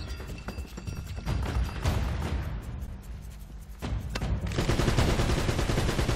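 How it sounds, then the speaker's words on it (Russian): Heavy gunfire rips through a firefight in the video game Uncharted: Drake's Fortune, dense bursts of automatic shots and booming blasts close and loud, easing briefly before a fresh sustained volley erupts. "Тяжелая артиллерия пошла."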